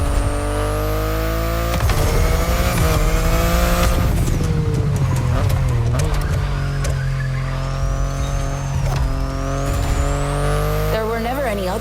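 BMW i8 sports car driven in The Crew Motorfest, its engine note droning steadily with rising and falling pitch sweeps, loud and continuous throughout, with a voice talking over it.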